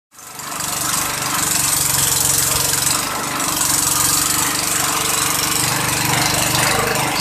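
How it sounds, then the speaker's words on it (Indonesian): A motorized grating machine shreds peeled, cleaned cassava for making lanting snacks in Kebumen, giving a loud, steady mechanical drone that runs continuously with no talking. "Singkong yang sudah dikupas dan dibersihkan, lalu dimasukkan ke dalam mesin parut."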